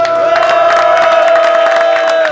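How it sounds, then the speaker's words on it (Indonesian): A studio audience cheers and whoops for a guest, football coach Shin Tae-yong, at a talk show, with loud massed shouting and a long held high-pitched cheer running throughout. "Dan tepuk tangan dulu buat tamu kita kali ini ada Coach Sintayong"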